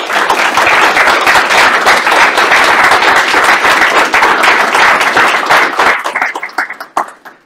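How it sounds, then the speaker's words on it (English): An audience applauds a lecturer with a loud, dense round of clapping that holds steady, then thins into scattered claps and dies away near the end. "join me in giving a warm round of applause to Professor Bruce Carter."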